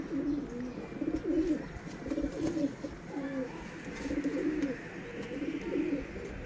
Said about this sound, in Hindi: जीरे कबूतर दोस्तों